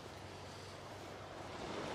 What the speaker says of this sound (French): on entend le bruit des vagues